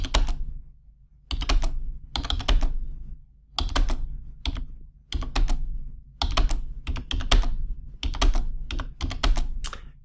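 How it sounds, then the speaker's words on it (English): Rapid typing on a computer keyboard as numbers are entered into a C# program, heard as close, crisp key clatter in irregular bursts separated by short pauses, with no talking. "now I got to make sure I type in a couple that repeat."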